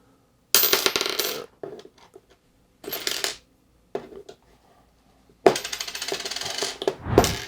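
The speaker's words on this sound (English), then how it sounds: "Let's see if the Nipbex pliers will pick up the nickel." A nickel coin picked up with Knipex 8-inch pliers and dropped: bright metallic clinks and rattles in several bursts, the coin clattering and skittering on a hard surface between brief pauses, close and clear.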